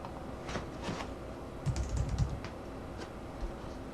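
Keys clatter on a computer keyboard as a name is typed, quiet clicks arriving in short irregular bursts with small pauses between them, close by over a faint room hiss.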